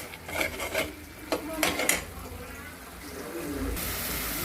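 A spatula scrapes and stirs bombil fish masala as it sautés in oil in a pan, making rough rasping strokes in short bursts, followed by a steady low sizzle.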